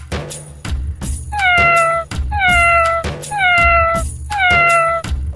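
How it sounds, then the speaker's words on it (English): A cat meows four times in a row, each call a clear, drawn-out, falling mew, loud and close with short gaps between, over faint background noise. "It's a cat."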